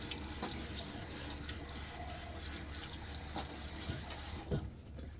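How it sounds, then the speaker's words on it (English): A bathroom tap runs steadily into a sink as water is splashed on the face before a wet shave, a continuous soft hiss with a few small splashes and drips. "let's throw a little bit of water on my face"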